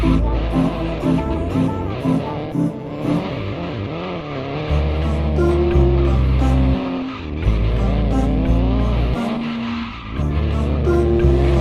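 A 2017 Audi R8 V10 Plus with a V10 engine drifts in a Roblox driving game, its engine revving and falling in pitch alongside sustained tire squeals, with brief gaps between slides.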